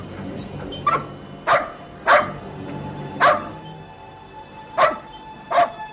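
A dog barks six times in short, sharp bursts with uneven gaps, fairly close and loud over a low background hum.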